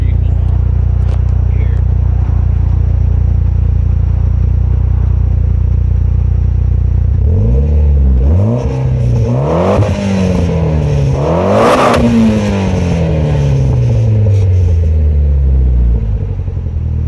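A Mitsubishi Evo X with a Cobb 3-inch catback exhaust idles with a steady low rumble for several seconds, then the engine revs up and down repeatedly, loud and close.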